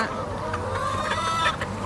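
Laying hens on a small backyard farm cluck steadily and close by, several birds overlapping in a continuous, busy chorus.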